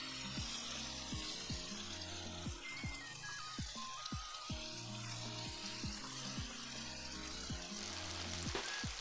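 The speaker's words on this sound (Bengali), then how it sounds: "আমলকিগুলো কিছুক্ষণ ভালো করে ফ্রাই করে নিতে হবে তাহলে আমলকির জলগুলো পুরো বেরিয়ে যাবে" Amla (Indian gooseberries) fry with salt in a pan, giving a steady, close sizzle with soft crackles and occasional stirring scrapes, heard alone without any talk.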